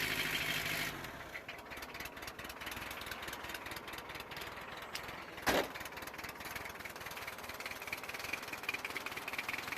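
A Toyota 2.2L diesel engine idles with a steady, even rumble, running alone at close range after a brief change at startup.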